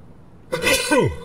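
A single sharp sneeze from a character in the video game Cyberpunk 2077 bursts out of near silence, loud and close, with a falling breathy tail.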